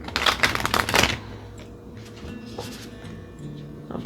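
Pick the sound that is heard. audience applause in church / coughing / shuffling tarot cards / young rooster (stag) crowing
shuffling tarot cards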